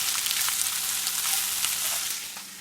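Chicken and eggs fry in a pan with a steady, close hiss and crackle. Small pops break through, and the sizzle eases slightly near the end.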